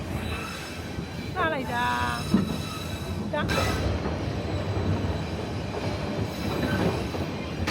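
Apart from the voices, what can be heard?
Shan train running slowly on 100-year-old railway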